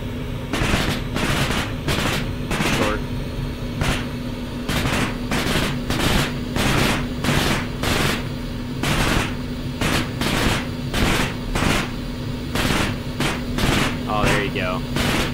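Machine gun fire in the Arma 3 game, repeated loud sustained bursts of automatic fire at a steady rhythm over a constant engine hum, with brief gaps between bursts.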